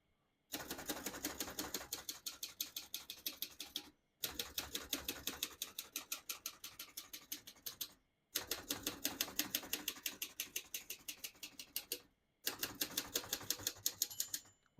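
A 1939 Royal Arrow vintage portable manual typewriter typing in four bursts of rapid, crisp key strikes, each burst separated by a brief pause. The keys clack close and sharp with no talking.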